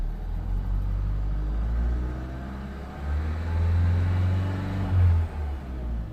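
Engine of a 2015 Vauxhall Vivaro 1.6 CDTi van with a fault that cuts it out near 3,000 rpm, a loud steady low rumble that swells as it revs, then dips and surges again, with no talking.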